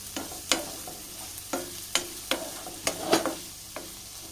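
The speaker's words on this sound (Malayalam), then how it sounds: "പച്ച ടേസ്റ്റ് മാറണ വരെ നമുക്കൊന്ന് വഴറ്റിയെടുക്കാം" A spoon stirring ginger and green chili masala sautéing in a pan, a steady soft sizzle under repeated sharp scraping knocks about every half second, close up with no voices.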